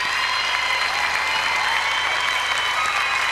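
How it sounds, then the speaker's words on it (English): Dense, sustained crowd applause at a ballroom dance competition fills the hall evenly, loud and close, with no breaks. "And as you can hear, the crowd just loved it."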